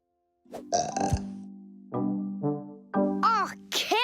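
A cartoon hedgehog lets out a big, drawn-out burp after eating a huge plum, a loud, close belch followed by bursts of childlike cartoon voices.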